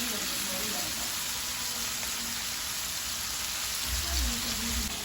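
Shrimp fry in a pan for Jamaican-style shrimp fried rice, giving a steady, moderately loud sizzle that runs without a break, with a faint low thump near the end.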